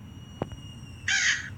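A single harsh crow caw in the Granny horror video game, loud and close, following a couple of faint taps, with no talking.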